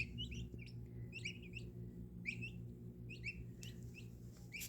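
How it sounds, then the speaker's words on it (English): Soft, repeated clucks and peeping calls from baby chicks in a large box come in short bursts every second or so, fairly faint against a low steady hum. "And here's the chickens."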